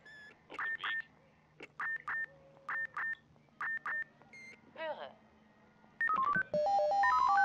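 Fire brigade radio alerting tones in the German rescue game Emergency 4: five evenly spaced two-tone beeps, a brief warble, then a rising and falling sequence of electronic pitches, loud and clear with a steady hum underneath.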